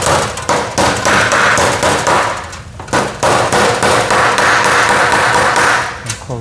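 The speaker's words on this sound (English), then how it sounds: "Get this wire edge started just with a hammer and a dolly" Steel hammer striking sheet metal over a dolly to start a wire edge on a panel during a 1969 VW Bus restoration, a rapid run of sharp metallic blows with brief pauses, close and loud throughout.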